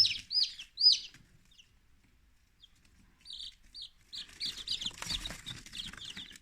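Eleven newly hatched chicks in an incubator on days 21 to 23 give faint, high peeps, a few scattered cheeps at first, then a denser overlapping cluster of chirping toward the end.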